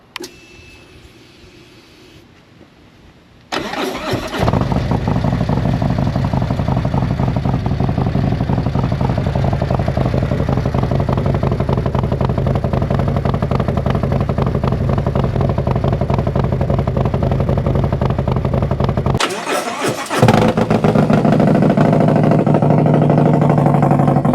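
Engine of a 2020 Harley-Davidson Road Glide fitted with a Khrome Werks reducer, starting after a quiet stretch into a loud, steady close idle, briefly dropping out near the end and then resuming.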